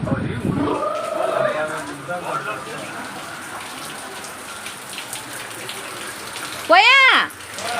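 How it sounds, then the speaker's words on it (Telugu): Heavy rain pours down in a steady, dense wash of noise throughout, with people talking over it near the start and a short tonal sweep near the end. "భలే వర్షం పడుతుంది."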